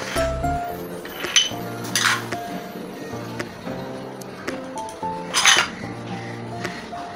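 A utensil clinks and scrapes against a bowl while burger mince is mixed with salt, green chilli, ground spices and a little flour, with irregular close taps and rattles and brief musical tones in the background.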